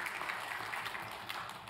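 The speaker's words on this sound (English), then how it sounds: "Yeah, we can give you guys some claps." Congregation applauding a children's choir at a Sunday church service, a steady wash of many hands clapping together for under two seconds, fairly faint and with no distinct individual claps.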